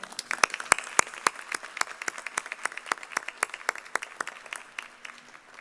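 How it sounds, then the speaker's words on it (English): Sparse, scattered clapping from a commencement audience saluting the faculty, individual sharp claps at an uneven rhythm, moderately close and fairly quiet, fading toward the end. "Please join me in saluting our faculty with a round of applause."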